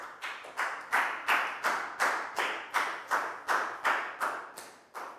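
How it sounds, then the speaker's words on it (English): A Year 4 classroom of children applauds in a rhythmic pattern of about a dozen evenly spaced clapping bursts, each swelling and fading, close and fairly loud, with no talking. "Big round of applause for Lakgao"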